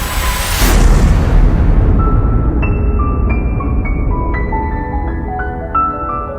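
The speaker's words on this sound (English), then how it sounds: "They evaporate away at an increasing rate until they vanish in a gigantic explosion." A huge, roaring explosion meant to depict an evaporating black hole bursts at the start, a loud broadband blast that rumbles and slowly decays, followed by faint ringing electronic tones scattered through the fading tail.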